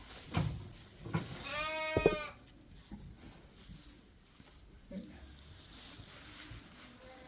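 Sheep and lambs bleating on a farm, a few loud nearby calls early on followed by quieter rustling and shuffling, with some talk mixed in.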